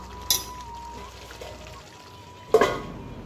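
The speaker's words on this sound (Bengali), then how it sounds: "আজকে আমি এখানে একটু চিকেন রান্না করছি" Chicken cooks in a pan at home with a soft steady sizzle, broken by two sharp metallic clinks of a utensil against the pan.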